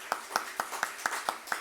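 A church congregation at a Korean Sunday service claps in a steady, even rhythm, about seven distinct claps at a moderate tempo, fairly faint and with no voices over it.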